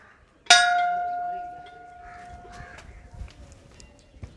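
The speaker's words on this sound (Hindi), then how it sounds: "सबसे पहले मैं घंटा बजा लेता हूँ, छोटा सा घंटा है।" A small Hindu temple bell at a Hanuman shrine is struck once, giving a sharp metallic clang with a long ringing tone that slowly fades, followed by faint ambient noise.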